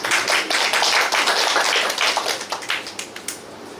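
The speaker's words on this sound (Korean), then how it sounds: "박수로 맞이해 주시기 바랍니다." A hall audience at a public debate forum on tightening license renewal for elderly drivers claps to welcome a speaker; dense, loud applause fills the room, then thins into scattered claps and fades toward the end.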